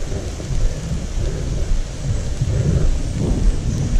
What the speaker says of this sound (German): Man sieht es eh oder man hört es. Es regnet, es regnet.